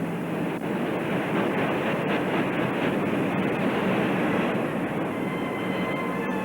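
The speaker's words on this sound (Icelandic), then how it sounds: "Sjáðu, Vandráður, hellirinn að hrynja saman" A cave collapsing in an Icelandic Tintin radio drama set in the dark Moon mountains, rendered as a sustained, loud, dense rumbling roar with no break across the whole stretch.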